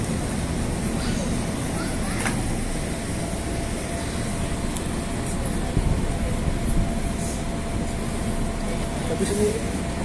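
Steady low rumble of a train idling at JIS station, with faint hiss and distant clanks, people talking quietly in the background.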